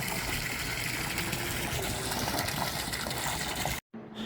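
Steady rushing water flow from a swimming pool submersible pump, a continuous gushing stream at close range, cutting out abruptly near the end.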